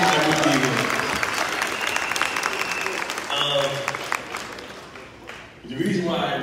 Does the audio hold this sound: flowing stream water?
no